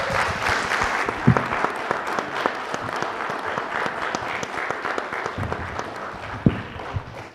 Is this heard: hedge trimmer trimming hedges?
no